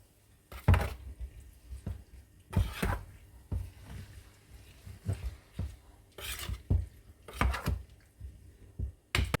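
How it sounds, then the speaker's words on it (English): A spoon clanks and scrapes in a pot as spices are stirred into partly cooked vegetables for a vegetable biryani, with sharp knocks at irregular intervals over soft mixing sounds, close and fairly quiet. "So now we have to mix up all the spices into the vegetables."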